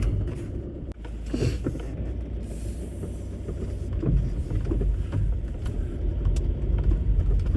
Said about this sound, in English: You can actually drive across the common here, which is pretty cool.